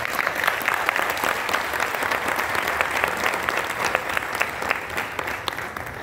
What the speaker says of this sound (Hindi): तालियों की गूंज हमेशा मुझे बहुत अच्छी लगती है